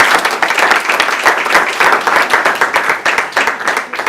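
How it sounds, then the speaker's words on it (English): Audience applauding at the end of a debate at a university exchange event: loud, close clapping from a modest crowd with a clear, fast rhythm of individual hand claps, steady throughout. "A round of applause for everyone."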